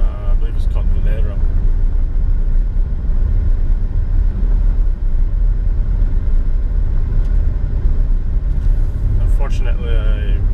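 A car drives along Calle Miramar in Nicaragua, its low engine and road rumble continuous and fairly loud from inside, with brief voices near the start and end.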